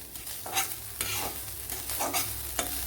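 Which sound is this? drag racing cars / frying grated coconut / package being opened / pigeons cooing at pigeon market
frying grated coconut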